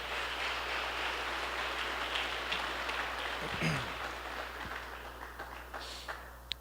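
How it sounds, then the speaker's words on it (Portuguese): Church congregation applauding in a dense, steady wash of clapping that fills the whole stretch, with a low hum underneath and a few louder claps near the end. "Dá um aplauso a Ele, glória a Deus."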